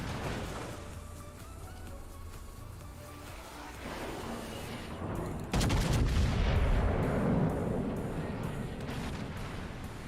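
Warship main-battery gunfire in World of Warships: low rumbling background gives way midway to a sudden loud booming salvo that rolls on with heavy, sustained low-end rumble.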